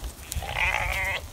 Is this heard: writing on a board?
no